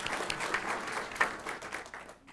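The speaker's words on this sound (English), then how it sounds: "Let's give him a round of applause." Audience at a school board meeting giving a brief round of applause, a soft, steady patter of many hands clapping that fades out at the end.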